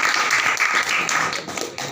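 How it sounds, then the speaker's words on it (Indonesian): A crowd at a sports association working meeting breaks into brief, dense applause, steady and fairly loud throughout. "Tepuk tangan untuk kita semua."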